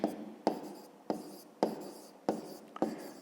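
A pen scratches on paper in a run of short strokes with brief pauses between them, close and faint, with no talking.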